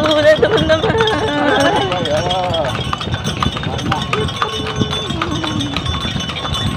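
Horse hooves clip-clop steadily during a delman horse-carriage ride, under a child's and an adult's voices, with other horses and street bustle close by.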